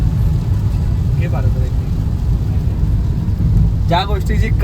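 Rain falls during a road trip from Mumbai to Konkan, a steady, dense hiss with a low rumble underneath, while brief voices break through now and then.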